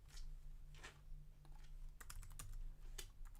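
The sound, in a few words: computer keyboard typing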